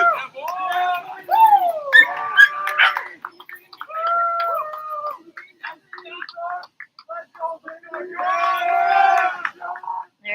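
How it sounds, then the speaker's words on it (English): Iona rowing club supporters at a regatta shout and cheer for their men's eight in repeated bursts of raised voices, separated by short gaps and building again toward the end, fairly close. "we've got the Iona group cheering on their boys' 8, their men's 8"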